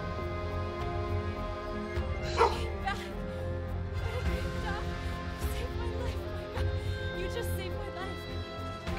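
A dog in the video game Edge of Collapse barks and yips in short bursts over a steady droning game soundtrack, with a few sharper yelps standing out mid-clip.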